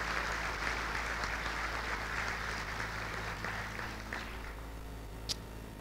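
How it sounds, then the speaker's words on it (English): A symposium audience gives warm, sustained applause for an honored family, a steady dense wash of clapping from a crowd that fades slightly toward the end. "give another applause to the Calciano family"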